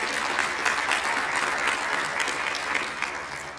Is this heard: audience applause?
yes